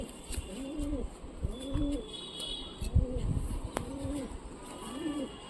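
A pigeon coos in a slow repeated rhythm, about five rounded throaty calls close by, with faint chirps and light background rustling between them.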